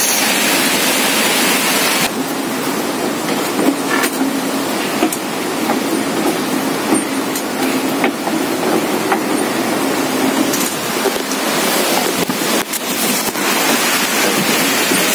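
Strong typhoon wind blasting outside in Camarines Sur, a loud continuous roar with gusty surges that intensify and fade over the full stretch, with no talk.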